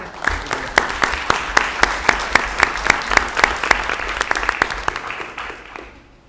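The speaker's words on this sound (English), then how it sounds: "Big round of applause here." A commission meeting audience gives a round of applause: a bed of room-wide clapping with one nearby pair of hands beating sharp, evenly spaced claps on top, fading out at the end.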